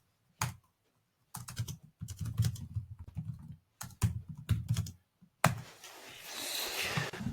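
Typing on a computer keyboard while entering a request into an AI software-building tool, with quick irregular bursts of close clicking keystrokes and brief pauses between them, ending in a steady hiss.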